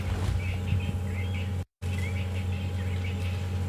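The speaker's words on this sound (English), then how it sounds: "But for now, it's mainly the francolin that we can hear." Francolins call on an evening safari drive in the African bush, repeated raspy chirping phrases over a steady low vehicle hum, with a brief dropout midway.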